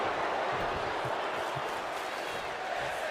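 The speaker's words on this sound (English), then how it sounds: "The crowd is really chanting, this is awesome." A virtual arena crowd in the WWE 2K25 wrestling video game roars and chants in a steady, dense wash of noise that holds throughout without letting up.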